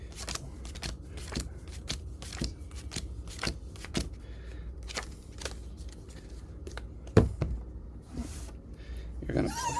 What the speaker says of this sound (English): you're going to start by drawing a hand of 7 cards